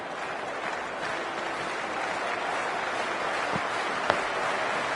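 A cricket crowd before an India vs Zimbabwe T20 match fills the air with a steady roar of applause and cheering, with a couple of sharp claps standing out near the end.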